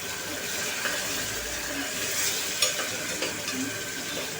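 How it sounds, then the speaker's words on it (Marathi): Onion paste fries in spiced oil for a masala kaleji gravy, a dense continuous sizzle with soft stirring and a couple of faint clinks, close and fairly loud throughout. "कांदा आपण छान फ्राय करून घ्यायचा आहे।"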